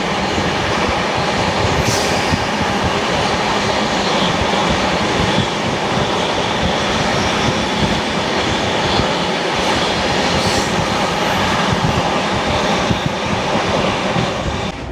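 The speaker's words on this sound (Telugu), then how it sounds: "అరౌండ్ మనకు 110లో అయితే వెళ్తుంది ట్రైను" Telangana SF Express train running at speed around 110, a steady loud rumble and rhythmic clatter of rail wheels heard from inside a 3AC coach, continuous throughout with no talk.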